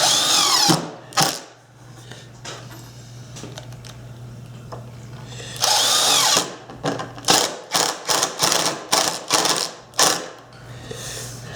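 A power drill drives screws into a wooden homemade winter bobsled, giving a long whirring run followed by a rapid series of short bursts with a low hum underneath and no talking.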